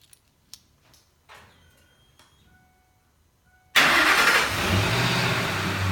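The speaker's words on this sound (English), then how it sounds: "Truck cranks up." A 2006 Ford F-150 XL pickup starts by remote start after a few quiet clicks, its engine firing abruptly and loudly, then settling into a steady close idle.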